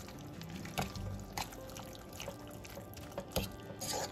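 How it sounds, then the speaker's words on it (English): Water from a can poured into thick chicken pot pie filling, giving a close, gentle liquid slosh and splash with a few sharper drips, alone without talk. "I'm gonna add one can of water, not two, because we want it thick."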